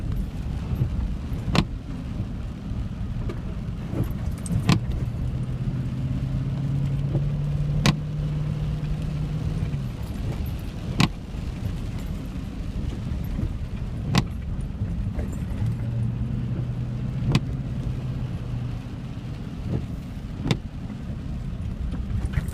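A car travels a rough, bumpy stretch of the Oleksandriia–Kryvyi Rih highway in Ukraine, with a steady low road rumble and cabin drone throughout, repeated sharp knocks and rattles from potholes, and a faint rising engine tone in places.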